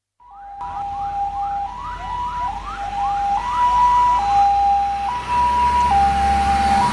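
A loud fire engine siren wails after a brief silence, alternating between two tones in a quick repeating pattern, then settling into slower, longer alternating notes.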